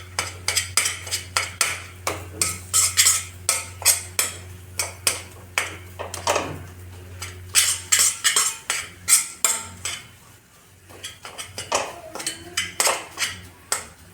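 Walnuts roasting in ghee in a pan over a medium flame, stirred with a metal spoon that clinks and scrapes against the pan in a quick, busy, uneven rhythm, close and fairly loud, with no talk.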